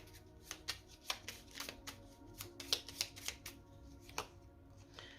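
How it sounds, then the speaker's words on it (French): Tarot cards drawn from a deck and laid down on a table, a quick series of soft slaps and sliding flicks, close and fairly faint. "on met une autre carte pour la santé"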